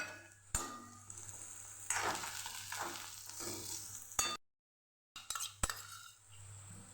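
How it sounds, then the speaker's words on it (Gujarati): Chopped onion and green garlic sauté in a pan, giving a soft frying hiss under scraping spoon strokes and metallic clinks, with a brief silent gap before stirring resumes. "એ આપણી ડુંગળી સતળાઈ ગઈ છે તો આપણે હવે લીલું લસણ ઉમેરી દઈશું એને પણ આપણે સાતડી લેવાનું છે"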